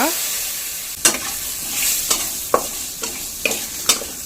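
Garam masala frying in a pan for a Mangalore-style mutton gravy: a soft continuous sizzle with about six sharp scraping stir strokes spaced roughly half a second apart, close by and without talk.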